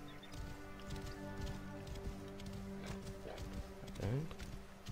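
Horse hooves clip-clop at a steady trot in Assassin's Creed Origins, the rhythmic thuds sitting over a constant low game hum with a short whinny-like sweep near the end.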